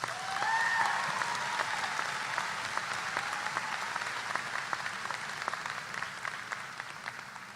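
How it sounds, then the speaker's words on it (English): Sustained audience applause at the UMass Dartmouth 2018 undergraduate commencement ceremony, a dense steady wash of many hands clapping that swells early and then holds at a fairly even level for several seconds. "Let's please give her another round of applause."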